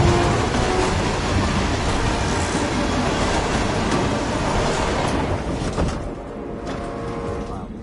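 A train rolls along inside a PS5 video game, a loud, dense rumble with a faint rhythmic clatter that holds steady and then thins out and quietens toward the end.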